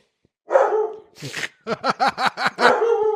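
A house dog barks at a DoorDash delivery: a long whining yowl, a rough growl, then a quick run of five or six loud, close barks ending in a drawn-out howl-like bark.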